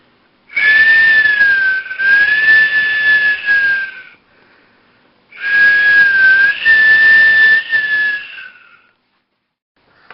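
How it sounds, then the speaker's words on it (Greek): A loud, sustained high whistle sounds in two long blasts of about four seconds each, separated by a short pause, steady in pitch with a slight wavering, close and dominant. "Ακούστηκε ένας δυνατός σφυριχτός ήχος."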